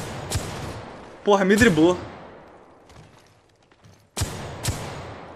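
Bursts of gunfire in the mobile shooter Apex Legends Mobile, sharp shots at the start and in two clusters near the end, with a player talking excitedly in between.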